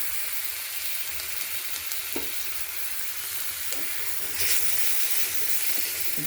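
Onion paste and garlic cloves frying in a pan give a steady, hissing sizzle with occasional soft stirring clinks and a brief surge of spitting near the end, close and unbroken by speech.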